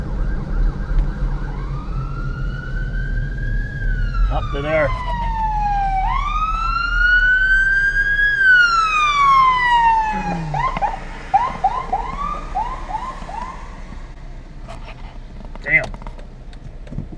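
A wailing police siren rises and falls in long sweeps, switching to rapid yelps, fairly close, with a person talking briefly over it.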